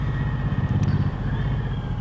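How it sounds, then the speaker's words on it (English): A Suzuki Intruder motorcycle engine is throttled in first gear, producing a faint, steady, low rumbling drone that stays fairly even for the whole short clip. "When you throttle this in first gear, man, that whole bike just lifts up in the air."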